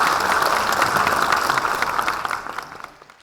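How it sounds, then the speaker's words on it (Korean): Audience applause at a Dongguk University anniversary ceremony, a dense steady clapping from a large crowd that holds loudly for several seconds and then fades out. "다시 한번 직접 자세하게 발표해 주신 총장님께 감사의 박수 부탁드리겠습니다."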